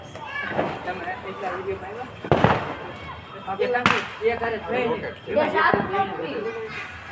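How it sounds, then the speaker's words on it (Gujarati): Firecrackers burst during Diwali celebrations in a village: three or four sharp, loud cracks spaced a second or two apart, heard over steady talking and chatter nearby. "ચાલો મિત્રો ફટાકડા ફોડવાળો"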